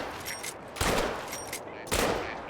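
Two loud, sharp hunting rifle shots ring out about a second apart, each followed by a brief echoing tail, in a Salzwiesen Park hunting game.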